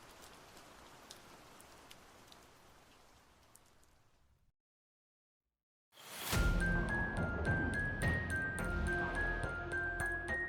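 Steady rain falls outside, a soft continuous hiss that cuts out briefly, then returns louder and closer with clinking, tinkling tones layered over the downpour.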